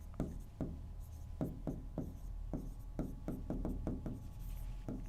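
Pen scratching on paper as a maths equation is written out by hand, a rapid series of short close strokes in an uneven rhythm, fairly quiet, with no talking.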